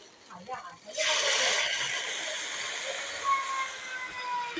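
Warm water is poured into a pan of sizzling spice masala, setting off a sudden loud hiss of steam that gradually settles into a softer bubbling sizzle, with a voice heard briefly beforehand.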